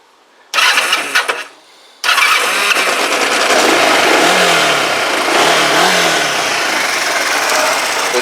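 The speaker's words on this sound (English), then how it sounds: "The engine is absolutely sweet. We'll fire it up." A Kawasaki GPZ500S motorcycle engine cranks briefly, stalls, then catches and roars to life, revving loudly and unevenly up close before holding a steady, rough idle.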